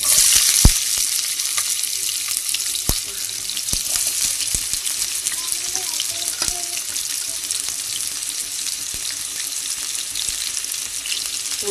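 Onions sizzle steadily in hot oil in a pan for crab curry, a continuous bright frying hiss with occasional stirring clicks close by.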